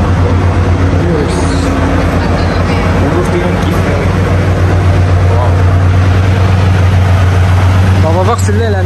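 A car idling with an Akrapovic exhaust among luxury cars at a Dubai dealership gives a steady, loud low rumble throughout, with voices and background chatter over it.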